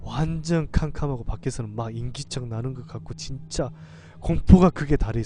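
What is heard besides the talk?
No everyday noises stand out.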